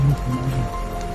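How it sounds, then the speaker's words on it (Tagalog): Heavy rain pouring down steadily, a dense wet hiss filling the short moment with no break. "grabe sobrang lakas na ng ulan."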